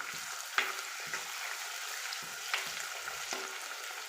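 Tomato frying in a pan for fish curry, a soft continuous sizzle broken by a few sharp stirring clicks and scrapes, close and quiet with no voices.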